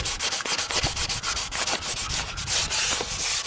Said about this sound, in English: this is a really fine grit sandpaper